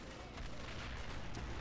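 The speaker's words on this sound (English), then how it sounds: "Mortars are still being dropped on the beach." Mortar shells burst on a beach during a fictional German invasion of Britain in a video game, a dense, continuous roar of rumbling explosions that fills the whole clip.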